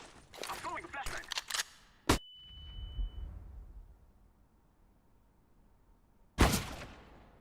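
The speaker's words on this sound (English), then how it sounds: "I'm throwing a flashbang." In the Counter-Strike: Global Offensive game, a flashbang grenade goes off with a sharp bang and a thin high ringing that fades. Quick clicks come before it and another loud burst follows.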